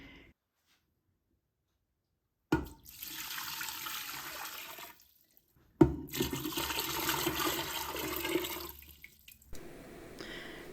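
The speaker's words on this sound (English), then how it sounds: "And then I need 8 cups of water in here." Water pours into an electric pressure canner in two separate bursts, each a loud, close splashing gush lasting a few seconds with brief quiet before and between them.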